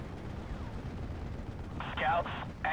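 An anti-tank gun fires in the World War II strategy game Steel Division Normandy 44, sending sharp, loud blasts over a low rumbling battle background in the second half, with voices talking.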